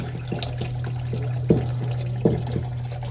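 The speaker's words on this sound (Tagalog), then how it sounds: "lalagyan ko na ng tubig oh." Water pours steadily into a container, a continuous liquid trickle and splash with a few louder sloshes and knocks, close by and with no talking.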